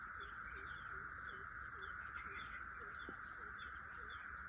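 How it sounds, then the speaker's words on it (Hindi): Small insects and birds call in a jungle, with a steady high insect drone and repeated short chirps scattered throughout, faint and distant, with no talking. "आप आवाजें सुन सकेंगे छोटे इंसेक्ट्स की, चिड़ियाओं की"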